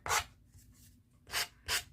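Close-up rasping strokes of a nail file on vintage junk decor: one stroke, a pause with faint scraping, then two quick strokes in succession.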